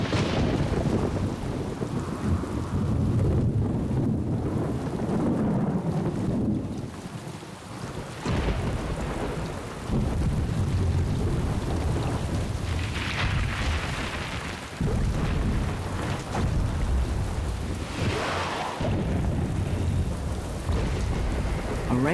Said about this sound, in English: A rainstorm can be deadly.